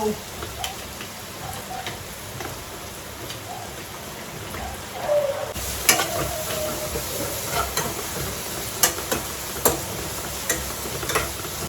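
Steady sizzling of onions frying in oil in a pan, with occasional scraping clicks of a utensil growing louder in the second half.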